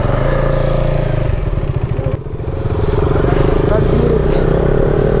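A 2022 KTM Duke 390 motorcycle being ridden near Gulmarg, its engine droning loud and steady up close with a brief dip in pitch partway through, like a throttle change.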